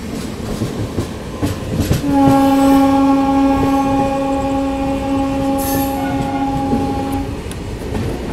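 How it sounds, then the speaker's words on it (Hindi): A goods train passes on a parallel dedicated freight corridor beside a moving passenger express in India, giving a long, loud, sustained horn blast over a continuous rolling rumble of rail noise. "DFC से कोई तो गुड्स ट्रेन पास हो रही पैरेलल में, देखो"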